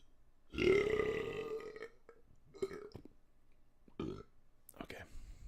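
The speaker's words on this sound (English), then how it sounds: "I got a burp." A long, loud, guttural burp rumbles close to the mic, followed by short bursts of talking and a laugh.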